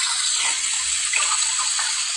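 Water rushes in a steady hissing spray, like a shower running nearby, constant and moderately loud.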